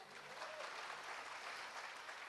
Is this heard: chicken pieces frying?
no